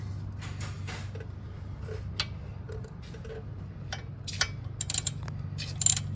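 Ratchet wrench cranking a bolt on the front suspension of a 1997 Chevy Tahoe during brake and suspension work, with faint scattered clicks over a low steady hum and a few sharper metallic ticks near the end.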